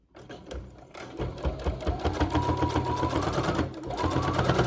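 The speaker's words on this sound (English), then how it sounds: "lift up your foot, turn the bag 90 degrees, and then just continue sewing" A sewing machine stitches through a bag in a steady, close rapid clatter that starts after a brief pause and speeds up slightly as it goes.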